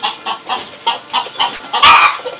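Chickens cluck in a poorly kept coop, breeding hens among them, with a run of short, close clucks in uneven rhythm, ending in a louder squawking burst; no talking.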